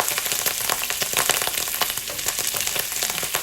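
Garlic spits and crackles in oil that is too hot, a dense, continuous run of sharp pops and sizzling heard up close.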